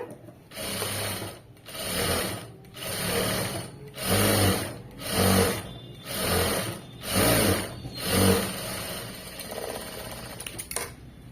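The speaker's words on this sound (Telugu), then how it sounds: "ఒక టాప్ స్టిచ్ వేసేసుకోండి ఇక్కడ" A sewing machine runs a top stitch in a series of roughly eight evenly spaced bursts of rattling whir, each lasting under a second with short pauses, close and moderately loud.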